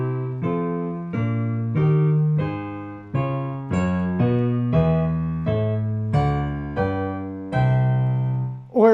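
A 1-4-7 chord progression opening a major circle of fifths sequence, played as a clear series of sustained chords, each struck and left to ring in an even rhythm, loud and alone.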